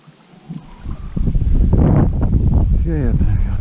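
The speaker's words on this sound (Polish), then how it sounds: "Wieje ten wiatr pierdzielony." Wind gusts buffet the microphone at a lakeshore as a small Carp Spirit 180 inflatable pontoon boat is launched, the rumbling noise building and staying loud and close, with a voice breaking through.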